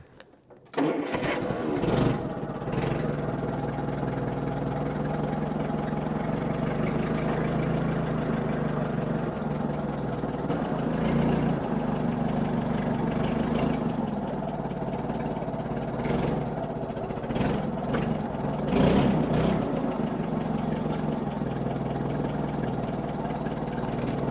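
A forklift engine idles steadily with a mid-pitched rumble while it holds up a newly delivered sawmill, after a brief start-up burst, with occasional clanks and metallic knocks over the running motor.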